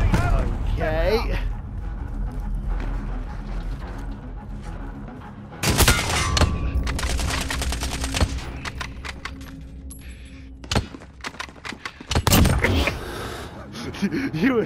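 Suppressed gunfire from a weapon in the video game Call of Duty: Modern Warfare, clusters of sharp muffled shots breaking out in separate bursts between quieter stretches, with someone talking over parts of it.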